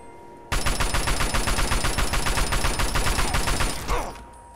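Sustained automatic assault rifle fire in Fallout 3, a loud rapid burst of evenly spaced shots running for about three and a half seconds before cutting off, followed by a brief fading tail.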